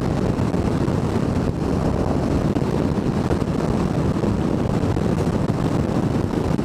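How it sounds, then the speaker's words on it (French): Wind buffets a camera microphone outdoors in a constant loud, broadband rush that fills the whole stretch without any clear break or voice. "Il y a un peu de vent aujourd'hui"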